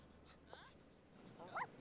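Dogs in The Sims 4 give brief whimpering yips and a short bark, faint and sparse over quiet game ambience.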